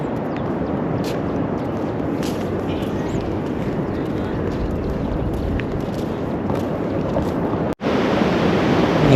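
A steady, dense roar of surf washes continuously, with wind buffeting the microphone and no distinct voices.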